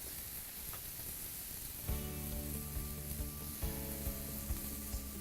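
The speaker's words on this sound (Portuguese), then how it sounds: "fritando na chapa os nossos ingredientes do entreveiro" Entrevero ingredients fry on a hot griddle with a steady, hissing sizzle, the crackle swelling as more food hits the surface, with a few soft stirring knocks and no voices.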